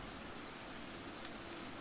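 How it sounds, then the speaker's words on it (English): Steady rain falls by the ocean in Stardew Valley as a faint, even hiss that runs without a break and with no other sounds. "the sound effects for the rain by the ocean"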